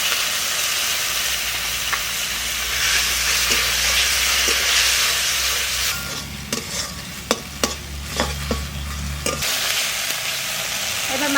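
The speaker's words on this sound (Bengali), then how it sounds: "মশলাটা কষানো হবে।" Spice masala sizzling in a pan with a splash of water, stirred steadily in a village kitchen; a close, continuous frying hiss with scraping strokes and sharp clinks in the second half.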